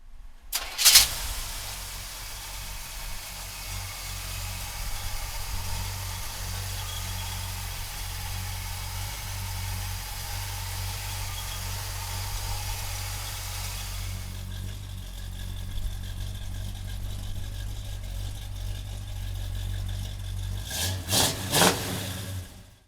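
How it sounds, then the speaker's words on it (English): A 1972 Chevrolet Cheyenne 4x4 pickup engine cranks and catches, then runs at a steady, fairly loud rumble before idling down, with a few sharp revs near the end; no talking. "So come on up and we'll fire it up for you right now."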